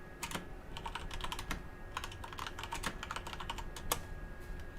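Close computer keyboard typing during a 7 Days to Die livestream, quick irregular clusters of sharp key taps with short pauses between them, and no voice over the clicking.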